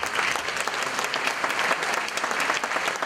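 Steady applause from a concert audience at an opening ceremony follows a performance of a song from the musical Cats, a dense, even patter of many hands clapping throughout with no break.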